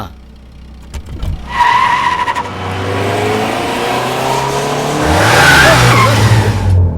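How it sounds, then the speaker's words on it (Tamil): A car in a movie scene speeds up with a loud engine rush, then brakes hard with a sustained tire screech and skid near the end, followed by engine whine, all close and loud. "அதாவது வேகமாக போய் இடிக்கிற மாதிரி நிறுத்தணும்."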